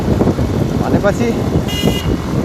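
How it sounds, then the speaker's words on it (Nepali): A vehicle horn gives a brief honk at a turning on a motorbike ride from Koshi Bridge toward Chaudandigadhi, a short bright toot over loud engine and road rumble. "हर्न लाउनुपर्छ भन्ने पनि थाहा रहेछ टर्निङ आएपछि"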